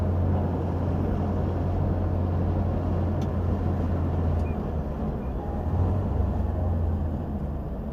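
A slate blue 1964 Volvo PV544 Sport cruises at about 60 mph, heard from inside as a steady low engine drone under continuous road and wind rumble, loud and unbroken.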